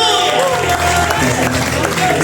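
A church congregation claps together during a divine-healing revival service and the church's third anniversary celebration, a dense, steady wash of applause mixed with music and voices.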